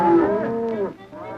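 Cattle mooing in a 1962 cartoon, a single long, loud, close moo that slides down in pitch, followed by a brief lower voiced sound, with no other talk.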